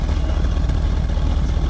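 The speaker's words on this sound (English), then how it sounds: "Listen to the exhaust." A 1973 Mercedes 450SL rat rod idles through a quiet, slightly rusty exhaust, giving a steady, even low rumble close by with no talk.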